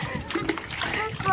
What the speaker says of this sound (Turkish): Hadi kovayla da ben de dökeyim.